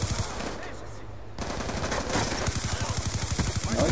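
Gunfire in Call of Duty Black Ops 2 team deathmatch: a short burst, a brief lull, then rapid sustained automatic fire, loud and close.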